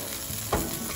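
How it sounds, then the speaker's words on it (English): A tandoori-spiced lamb rack sizzles and fries steadily, with two sharp bursts of louder crackling as the meat is flipped in the pan, close and without talk. "So it's been around 8 minutes and so we're going to flip the lamb."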